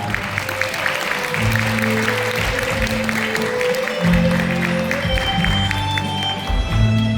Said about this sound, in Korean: 여러분의 따뜻한 박수 부탁드리겠습니다